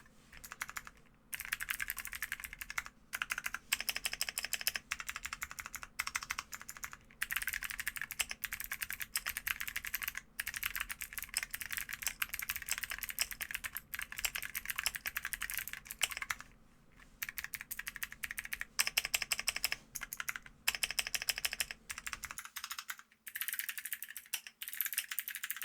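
Typing up close on a Kiiboom Moonlight 81 mechanical keyboard with spring-lubed Kailh blue switches, a steady stream of crisp, clicky keystrokes in quick bursts with short pauses between them.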